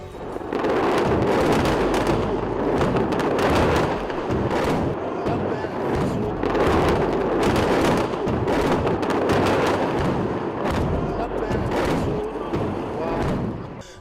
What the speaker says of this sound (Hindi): हिजबुल्लाह ने रॉकेटों का जत्था फायर किया